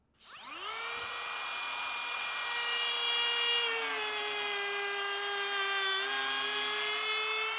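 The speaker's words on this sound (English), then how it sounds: "Have our 1/2 inch bit in there," A router fitted with a 1/2 inch flush cut bit spins up and trims wood, rising into a loud high-pitched motor whine that holds steady with slight dips as the cut proceeds.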